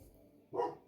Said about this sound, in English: Excuse my dog barking, he's a bit of an idiot.